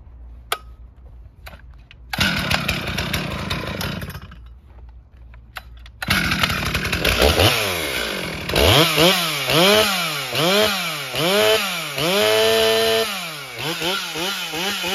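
A Stihl MS440 chainsaw runs at idle and then bites into wood, its engine loud and close, rising and falling in repeated revving swells as the chain cuts.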